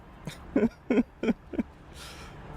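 A voice imitates a pigeon with four short, throaty cooing hoots in a steady rhythm, close and fairly soft, followed by a faint breathy hiss.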